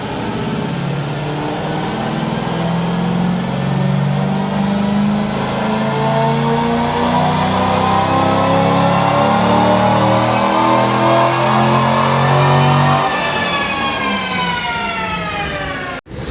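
C5 Z06 Corvette under a tuning pull, engine climbing in one long sustained rev from low to high pitch over about thirteen seconds, loud and close, then dropping off abruptly.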